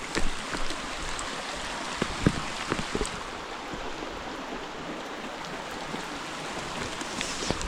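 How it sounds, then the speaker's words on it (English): Heavy rain pours steadily in rural Africa, making a dense, continuous hiss with scattered close drops tapping on surfaces. No voices are heard. "the rain, and it's coming a lot."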